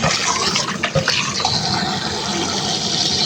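Pork intestines washed under a running kitchen tap, a loud steady gush of water splashing and sloshing with handling noises, close and continuous.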